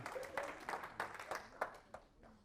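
Sparse, scattered clapping from a church congregation during a sermon, several separate claps in an uneven rhythm, moderately close and quiet, with faint voices around them.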